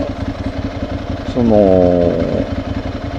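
A Honda motorcycle engine idles close by with a steady low throb, briefly rising in pitch for about a second before settling back, while someone talks over it.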